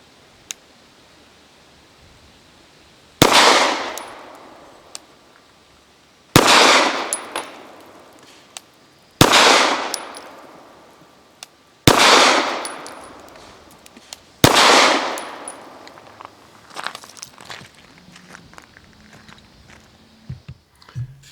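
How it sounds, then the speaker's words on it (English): Five loud gunshots from a Walther P99AS pistol firing 115 grain match ammunition at an outdoor range, spaced about three seconds apart, each a sharp crack with a decaying ring. "5 rounds of nozzle 115 grain match through the Walther P99AS."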